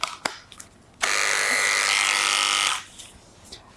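An electric pet clipper with a 3F blade buzzes steadily for about two seconds as it clips a dog's coat, starting and stopping abruptly, close and loud, with quiet handling sounds around it.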